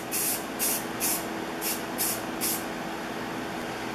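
A spray can coats a Stanley bench plane lever cap with paint in six short, evenly spaced hissing bursts, close and loud over a low steady room hum, then the hum continues alone.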